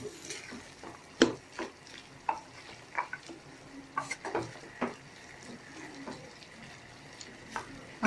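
Bottle gourd stir-fry with coriander being stirred in a pan, soft scraping and clinking strokes over a faint sizzle, close and fairly quiet.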